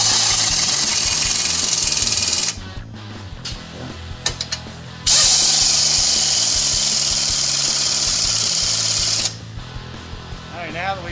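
A power tool tightens the two 15 mm control arm bolts on a Chevrolet HHR with two long, loud, whirring ratchet bursts separated by a pause filled with clicks and shop noise.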